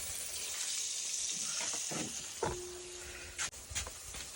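Food frying for a home meal before shashlik goes on, a steady broadband sizzle and hiss running throughout, fairly close, with a few brief clatters and a short tonal squeak near the middle.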